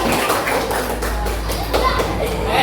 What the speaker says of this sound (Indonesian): Ayo, tepuk tangan buat kelompok Julian